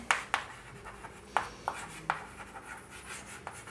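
Pen or chalk writing out a maths answer in a classroom lesson, quick scratchy strokes in short separate bursts with pauses between them, faint and close.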